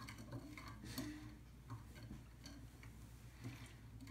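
A spoon stirs strawberry Jello powder in a bowl, making faint repeated ticking scrapes and clinks against the side in a steady rhythm, close by with a low background hum.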